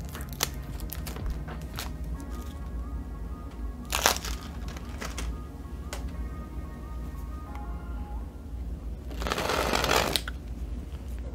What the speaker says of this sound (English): More cellophane?